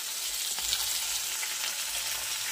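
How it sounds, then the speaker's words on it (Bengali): Tomato paste fries in oil with spices while it is stirred, making a steady, close sizzle with faint scraping underneath and no talk. "নাড়াচাড়া করে দিলাম"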